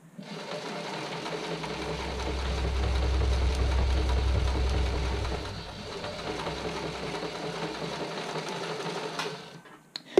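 A sewing machine runs a zigzag stitch along a bra seam, a continuous buzzing whir at close range that swells in the middle and then eases to a lighter hum before stopping.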